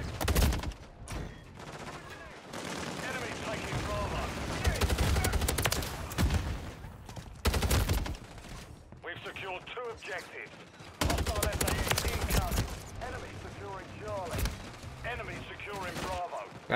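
Rapid rifle and machine-gun fire rattles in repeated bursts during a video game shooter firefight, loud and close. Short quiet gaps separate the volleys, and a voice talks underneath.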